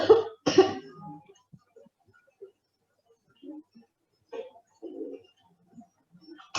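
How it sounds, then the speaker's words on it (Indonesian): Two harsh, wet coughs loaded with phlegm burst out close up at the start, followed by quieter throat rumbling and gurgling breaths in an otherwise silent space. "Ini adalah contoh batuk berdahak."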